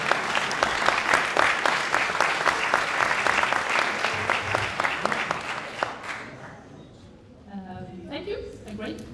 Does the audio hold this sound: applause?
yes